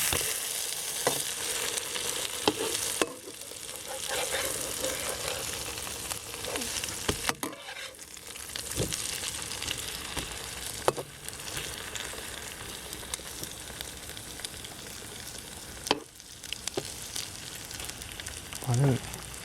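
Pork and shrimp burger patties fry in a pan with a steady, loud sizzle, broken by a few sharp clatters and scrapes as they are flipped over.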